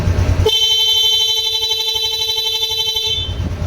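One steady motorcycle horn blast from a Honda RS 125 rings out loud and close for about two and a half seconds over an idling engine rumble.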